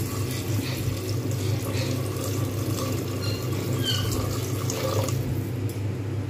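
Water poured into a frying chickpea and potato mixture for a potato paratha filling, giving a steady, continuous gush and splash at close range over a low background hum, with no talking.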